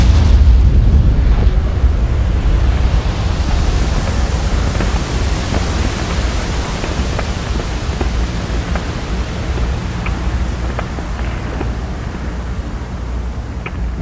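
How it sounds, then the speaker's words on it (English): A huge Big Bang explosion in the VR game We are Stars, a loud broad roaring rumble that swells at the start and then holds as a dense, steady noise wash with faint sparkling pops scattered through it. "Suddenly, the universe expanded. We call this moment the Big Bang."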